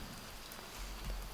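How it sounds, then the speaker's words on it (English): Rain patters on surfaces in the game Phasmophobia at Camp Woodwind, a soft, steady hiss of drops over a low rumble, faint and brief with no voices. "The pitter patter of the rain and the crickets behind it."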